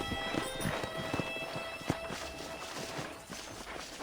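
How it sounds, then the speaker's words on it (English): Horse hooves clip-clop steadily as a rider sets off in the Red Dead Redemption video game, a quiet rhythmic walking gait over a faint ambient background with a brief thump midway. "Okay, let's see if you can still ride a horse."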